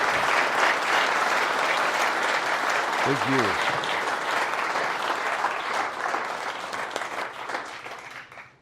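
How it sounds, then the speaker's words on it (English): An event audience at a venue claps for Travis at an applied AI community launch. The sustained applause runs several seconds, and a brief spoken thanks cuts through midway before the clapping thins and fades out. "can we just give Travis another round of applause?"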